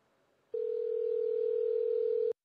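A telephone dial tone as a call home is placed: after a short hush, a single steady electronic tone comes on abruptly, holds clear and unbroken for nearly two seconds, then cuts off with a click.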